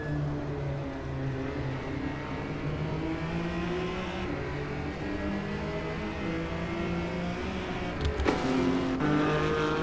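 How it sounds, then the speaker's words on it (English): LMP3 prototype race cars lapping the Deep Forest circuit in a racing video game, engines droning steadily and loud throughout, with a brief sharper burst near the end. "Noah Christoffel is up in the second in the LMP3 class."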